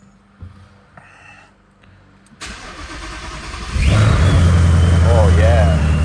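A 1000hp Ford Mustang cranks over and fires up after sitting for two weeks, settling into a loud, rumbling idle close by that holds steady to the end, with a few quiet knocks and rustles beforehand.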